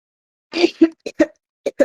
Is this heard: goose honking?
no